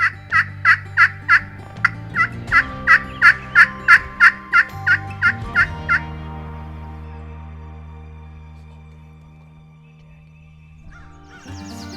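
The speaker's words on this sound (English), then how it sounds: "Jason and Adam are both looking to connect on their first Michigan gobblers" Wild turkeys gobble in Michigan timber, a run of about fifteen loud, evenly spaced gobbles over the first six seconds, then a quiet stretch before a brief rustling near the end.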